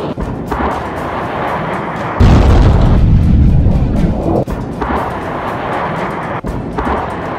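An M142 HIMARS launcher fires a GMLRS rocket with a loud, sudden roaring blast that swells, then settles into a long rumbling whoosh fading into the distance, with no voices.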